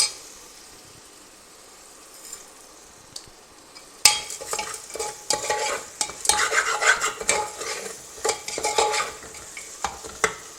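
A spoon stirs a vegan protein biryani mixture with chilli powder in a hot pan, giving brisk scraping and clinking strokes over a light sizzle after a quiet opening, with no talking.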